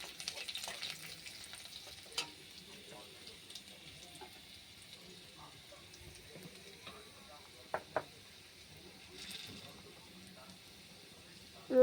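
Chopped garlic frying with bay leaf in hot oil, a faint continuous sizzle with light stirring scrapes and a few sharp clicks, heard alone and close.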